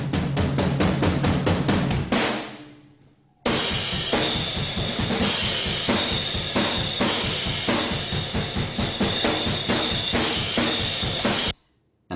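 Drum room tracks sent through a homemade reverb room play a dense, loud, roomy drum groove, breaking briefly after two seconds, then resuming for eight seconds before cutting off, with no talking.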